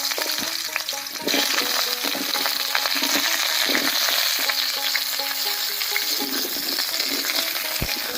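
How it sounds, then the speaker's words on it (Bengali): Squash frying in mustard oil in a kadai, a loud, continuous sizzle with scattered clinks and scrapes of stirring throughout. "এই ফাঁকে আমি কোয়াশটা একটু ভেজে নিই।"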